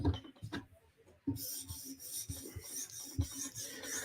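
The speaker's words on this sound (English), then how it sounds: "We are sharpening a custom knife." A custom flipper knife is drawn across a sharpening stone in short, rasping strokes, close and fairly loud, repeating at an uneven rhythm of roughly two strokes per second.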